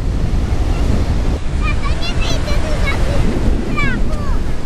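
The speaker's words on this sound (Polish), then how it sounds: "Wielkie fale." Big ocean waves break on a beach in a steady, loud roar of surf, with wind buffeting the microphone and faint high chirps drifting over the wash.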